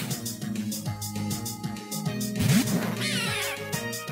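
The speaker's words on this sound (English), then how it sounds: "That's the cat Pokemon." Cat Pokémon cry from Pokémon Platinum, a short synthetic meow-like call over looping game music, with rising and falling electronic tones near the end.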